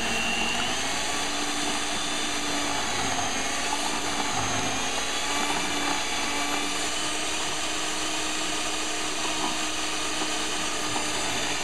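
A blender making hummus runs with a steady, loud motor whine and high-pitched hum, continuous throughout at constant speed, with no voices.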